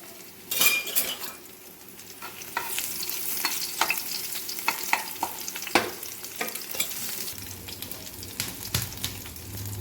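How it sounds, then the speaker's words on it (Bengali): Garlic tempering in hot oil in a kadai before greens go in, a steady sizzle with sharp scrapes and clinks of a metal spatula stirring against the pan, close and fairly loud, no talking. "একটু রসুন ফোড়ন দিই"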